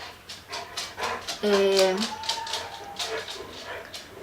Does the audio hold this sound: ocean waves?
no